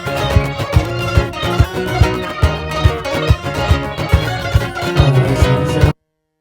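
Looper playback of an acoustic guitar loop for a song: strummed chords with percussive body hits in a steady rhythm, loud and close, ending abruptly in silence.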